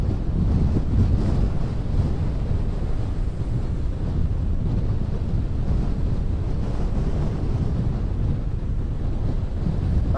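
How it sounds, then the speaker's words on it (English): Heavy storm wind buffeting the microphone in a constant low roar at Bayfront Park, with surf rumbling in the background and no voices. "these wind gusts are starting to kick up here"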